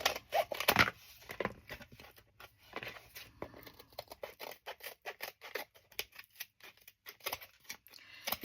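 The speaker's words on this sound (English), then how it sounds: "I'm just going to cut the spine off" A book block having its spine cut away while making journal covers: quiet, irregular snips and cutting scrapes close up, with short pauses between strokes.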